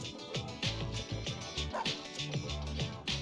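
Dogs barking and yipping in Persona 3 Portable, several close, excited barks in quick succession with whimpers between them over a backing game score.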